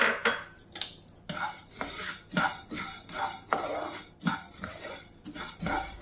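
Coriander seeds dry-roasting in a pan give a run of quiet scraping and rattling strokes, like a spatula working through the seeds, coming in irregular bursts close by with no talking.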